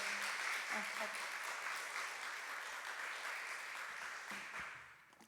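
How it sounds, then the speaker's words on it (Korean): Audience at a church youth retreat applauds a visiting pastor with steady, even clapping that holds throughout, then trails off as the applause fades at the end. "힘차게 박수로 우리 환영합시다"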